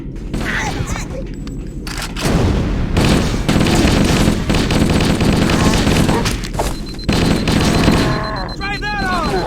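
Dense gunfire in Halo: Combat Evolved, with rapid bursts and heavy booms that hammer almost continuously and loudly, mixed with voices and battle chatter aboard a ship under attack.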